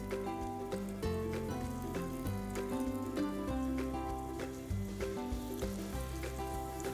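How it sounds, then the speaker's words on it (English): Vegetable seekh kebab skewers fry in a hot pan of oil, giving a steady, close sizzle that runs the whole time beneath a constant tonal backing with rhythmic accents. "I'm going to start keeping the skewers here to fry."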